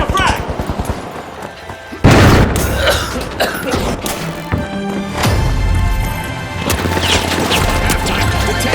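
A frag grenade blast in THE FINALS lands as a sharp loud crash, followed by heavy rumbling debris and clattering amid a busy mix of in-game noise and background music.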